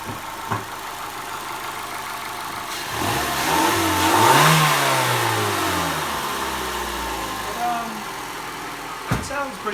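A 2011 Mercury Milan engine idles steadily, then revs up, with pitch climbing to a peak and easing back down before settling to an idle again.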